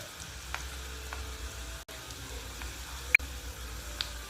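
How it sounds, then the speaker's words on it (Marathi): Cumin, asafoetida, onion and turmeric fry in hot oil in a wok, giving a steady, quiet sizzle with a few faint pops and clinks over a low background hum. "कढईमध्ये तेल घालते. तेल झालेलं आहे, त्याचे जिरं घालते, हिंग घालते, कांदा घालते, हळद"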